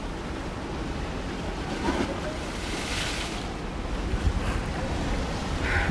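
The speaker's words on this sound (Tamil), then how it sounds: "இது வந்து இந்த பக்கம் தான் தொடங்குது கடல்." Ocean surf rolls in along the Tenerife coast in the Canary Islands, heard from a height as a steady, broad wash of waves mixed with wind buffeting the microphone, with no talking.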